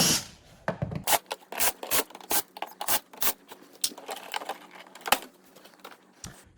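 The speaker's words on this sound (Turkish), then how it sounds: "Arka kapağı sökerek işlemlere başlıyoruz." Plastic back cover being pried off a TCL LCD television during a no-picture repair: a quick, irregular series of sharp clicks, snaps and scraping rubs, close up with no talk.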